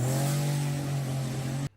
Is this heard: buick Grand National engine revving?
yes